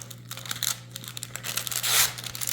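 Backing is peeled off a sheet of privacy window film in quick crackling tears and crinkles, close and fairly quiet, rising to a longer ripping pull near the end over a low steady hum.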